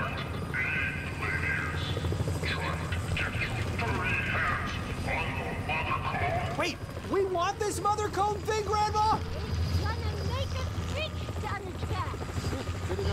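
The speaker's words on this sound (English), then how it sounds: "Okay, we got the helicopter now." A helicopter's rotor thrums steadily in the video game Blind Drive beneath busy game sound effects and chirpy electronic noises, with voices talking over it.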